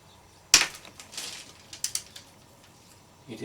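A 10 mm nut on a Suzuki DL650 V-Strom motorcycle's cooling system is loosened with a wrench: one sharp crack of the nut breaking free, then a series of light ratcheting clicks, close and fairly quiet.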